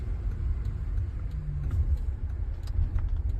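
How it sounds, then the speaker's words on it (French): Low, steady engine rumble of a Volvo V plug-in hybrid accelerating gently, with a slight rise in pitch, heard from inside the vehicle with road noise underneath. "J'accélère un peu, on écoute le moteur."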